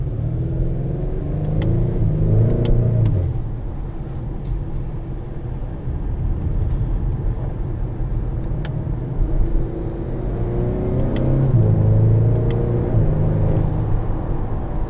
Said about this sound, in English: Like, come on, for a torque converter, those are pretty good shifts.